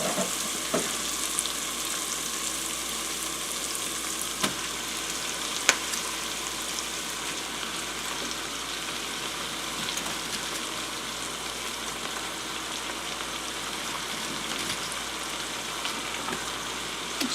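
Cabbage hits a hot pan and fries with a steady sizzle, broken by a few sharp pops and clicks from stirring, running continuously with no talking.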